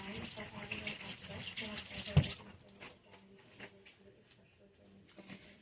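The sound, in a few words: rinsing hands under running tap water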